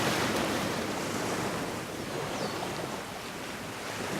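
Ocean surf rolls steadily at dawn, a continuous broadband wash of waves with slight swells in intensity and some wind, no voices.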